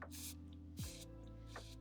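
Pressurized perfume atomizer on a Franck Olivier Eau de Passion Man bottle with a clear plastic cap, giving three short hissing sprays at close range, spaced evenly apart over a steady background hum.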